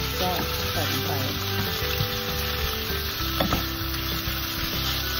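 Pork frying in sunflower oil, a steady loud sizzle and crackle running throughout with occasional stirring clatter and a sharp clink at the end.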